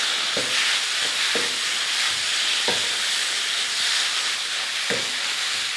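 Green chili paste with milk stirred in a hot pan for chicken roll stuffing, a constant sizzling hiss broken by a few scraping utensil strokes at irregular intervals, no talking.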